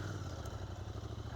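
Royal Enfield Interceptor 650 twin-cylinder motorcycle, four years old with 60,000 km, ridden off-road past farm fields; a steady mid-pitched engine drone with light mechanical clatter, fairly close and continuous, no talking.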